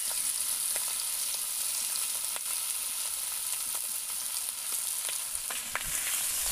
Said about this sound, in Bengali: কড়াইতে আরও 2 চা চামচ তেল দিয়ে চিংড়ি মাছগুলো ভেজে নেব।